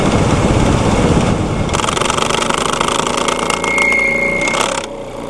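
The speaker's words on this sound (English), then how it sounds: "Customer states that there's a noise when they cut the air conditioning on. He said that the fans are noisy." Radiator cooling fans on a 2014 Nissan Pathfinder whir loudly under the hood with the A/C on, a steady dense roar with rattly vibration and a faint whine, ending in a drop in level.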